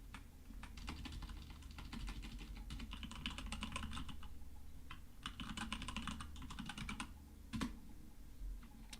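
Typing on a computer keyboard while editing in a terminal, close rapid key clatter in bursts separated by short pauses, with no talk.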